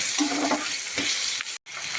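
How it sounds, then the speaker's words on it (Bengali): Sliced potatoes frying in oil over a medium-high flame for a fish curry, a dense close sizzle with a couple of brief stirring taps before a sudden short dropout near the end. "আমি একটু মিডিয়াম টু হাই ফ্লেমে দিয়ে আলুগুলোকে ভেজে নেব"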